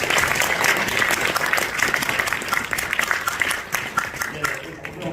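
Sustained, dense applause from a crowd at a Korean church council assembly, loud and continuous with steady clapping texture, greeting the unanimous election of a new president; it tapers slightly near the end.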